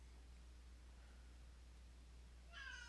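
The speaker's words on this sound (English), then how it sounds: "And that's my cat." A pet cat gives a single short meow near the end, faint in a quiet room over a steady low electrical hum.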